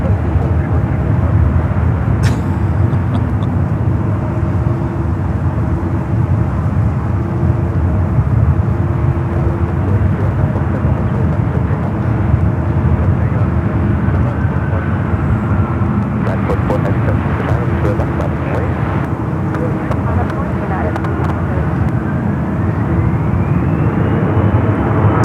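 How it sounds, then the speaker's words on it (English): An SAS Airbus A350-900 arriving from Copenhagen approaches San Francisco airport, a steady engine drone in the background with a faint rising whine late on, while someone talks over it throughout. "SAS, the A350-900 up at next for arrival."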